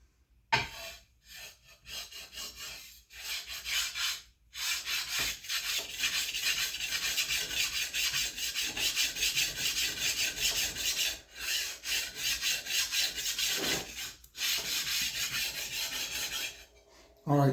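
Planer, chipper and jointer knives sharpened by hand on a sharpening plate in a shop on a rainy day, heard as close, steady rasping strokes rubbing back and forth in long runs, broken by brief pauses.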